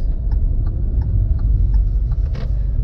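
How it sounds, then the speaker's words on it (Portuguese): A car accelerating steadily in second gear during a driving lesson on a road, its low engine rumble continuous and close throughout. "Já acelerou, passou a segunda, pode acelerar de novo e passar a terceira"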